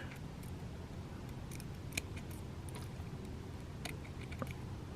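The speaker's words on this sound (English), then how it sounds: "I'll come in with our scissors and clip that out of there" Quiet, close snips of small scissors clipping thread while tying a fishing fly, a few light clicks scattered over a faint low hum.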